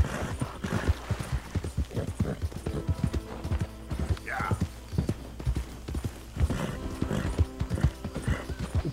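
In Red Dead Redemption 2, a horse gallops through a swamp with rapid, rhythmic hoofbeats clopping close and loud, a brief whinny partway through, and a voice talking over the hooves.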